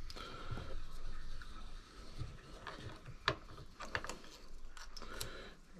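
A DVO Topaz rear shock damper shaft is unscrewed with a 4mm key, giving faint ratcheting and mechanical clicks with a few sharper metallic ticks, close up and quiet.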